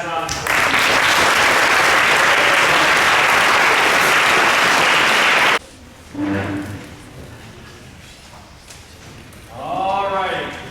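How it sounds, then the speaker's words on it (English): An audience at a high school football banquet applauds loudly and steadily for about five seconds, then the applause stops abruptly and someone speaks over the quiet room. "So let's give these young guys a round of applause."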